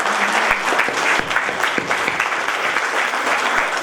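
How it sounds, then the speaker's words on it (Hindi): Steady, close audience applause at a university convocation ceremony, dense clapping filling the hall without pause. "सबके लिए तालियां हो जाएं।"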